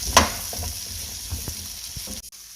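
Vegetables sauté in a pan for keto fried rice, a close, steady sizzle with a sharp scrape near the start and a few soft stirring knocks before it cuts off abruptly.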